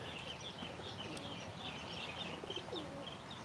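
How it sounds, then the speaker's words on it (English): Pigeons or doves cooing outdoors at a temple by Phayao lake in Thailand, faint repeated coos and soft chirps over a steady background wash. "Oh, there's some birds."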